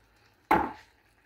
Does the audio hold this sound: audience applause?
no